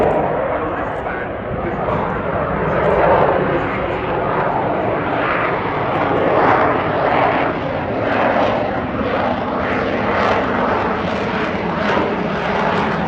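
A jet aircraft with a shaft-driven lift fan and a rear thrust-vectoring nozzle roars steadily and loudly at an airshow, with a continuous broadband engine rumble and a commentator's voice faintly underneath.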